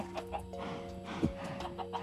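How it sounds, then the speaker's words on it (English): Chickens clucking in the Minecraft video game, several short bursts over a steady background of game sounds and music tones. "Come on, chickens need baby chickens."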